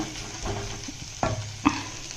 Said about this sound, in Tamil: கோவக்காயும் நல்லா ஃப்ரை ஆகிட்டுருக்கு